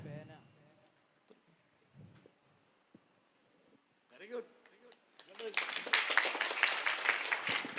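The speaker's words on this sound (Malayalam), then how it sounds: "ഇപ്പൊ കൈ അടിച്ചില്ലേ?" Audience breaks into loud clapping in a hall during a talk, starting after a few quiet spoken moments and sustained until the end.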